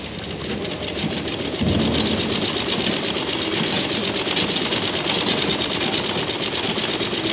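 An electric sewing machine runs continuously, stitching a blouse border with a loud, steady mechanical whir and no pauses or voices.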